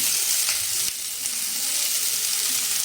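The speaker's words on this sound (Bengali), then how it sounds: "পেঁয়াজ রসুন কুচি আমি একটু ভেজে নেব" Chopped onion and garlic sizzle steadily in a hot pan for palak paneer, a dense, even hiss heard close up with no voices.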